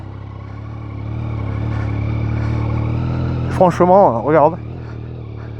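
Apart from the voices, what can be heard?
motorcycle engine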